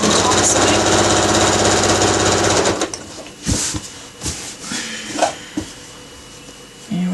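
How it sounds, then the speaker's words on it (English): A sewing machine top-stitches a drawstring bag, running loud and steady with a close mechanical hum, then stopping abruptly and giving way to scattered handling knocks and rustles of fabric. "Now I can grab the back side and do some top sewing."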